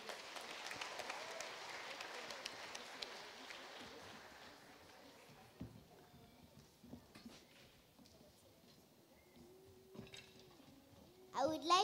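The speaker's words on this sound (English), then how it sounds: "Give him a round of applause as he comes." A church congregation applauds the pastor during a Sunday service with scattered clapping that fades over several seconds, followed by quiet room sounds and faint voices.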